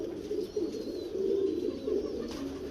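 Pigeons coo in low, steady murmurs close by at a pigeon loft kept for pigeon flying, with a few faint higher chirps over the soft continuous cooing and no talk.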